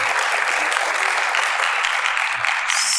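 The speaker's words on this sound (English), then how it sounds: "let's give them a round of applause" An audience at a kidney care clinical meeting applauds three policy experts from the National Kidney Foundation with steady, dense clapping that fills the whole moment.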